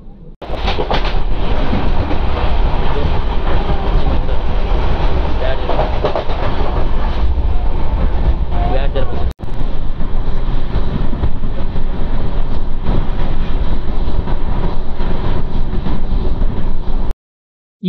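The Lingampalli–Vijayawada Intercity Express rolls along the track, heard from on board as a loud continuous rumble with rhythmic clickety-clack of the wheels, briefly interrupted midway.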